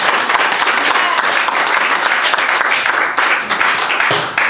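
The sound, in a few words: congregation applauding in church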